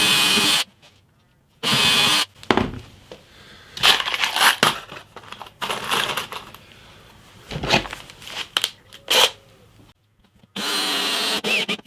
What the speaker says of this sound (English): I'm just going to attach this with screws.